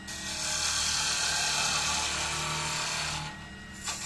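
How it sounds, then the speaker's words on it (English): A spindle gouge cuts a spinning wooden workpiece on a woodturning lathe, giving a steady, close scraping hiss for about three seconds. The sound then eases off to the lathe's quieter hum with a brief scrape at the end. "So now we can use our spindle gouge and just do half of it."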